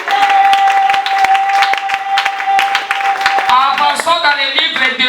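A church congregation claps in steady rhythmic applause, loud and close, under a sustained tone and voices raised in acclamation.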